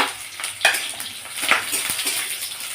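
Dried red chilli, a bay leaf, panch phoron and chopped onion fry in hot oil with a steady, bright sizzle, punctuated by a few clinks of a stirring spoon against the pan, close by.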